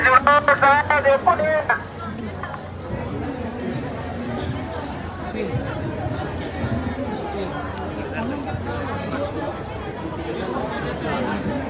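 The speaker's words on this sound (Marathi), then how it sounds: "सो गर्दी तर खूप आहे" Dense crowd chatter and hubbub at the busy Bhimthadi fair in Pune, a continuous babble of many voices with a nearby voice speaking loudly at the start.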